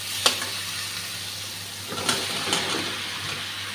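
Vegetables for a shrimp and vegetable curry sizzle in hot fried spice paste, a steady close hiss broken by a few sharp stirring scrapes and spatters, with no talking.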